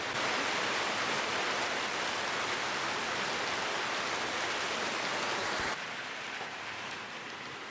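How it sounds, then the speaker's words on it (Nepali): Steady, hissing rain falls in a hilly village by the Mechi river, a dense continuous wash that drops slightly in loudness toward the end, with no voices. "तर पानीले हामीलाई रोकिदियो।"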